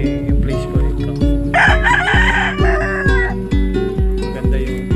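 A rooster crows loudly and nearby on a mountainside farm over music with a regular thumping beat; no voices are heard.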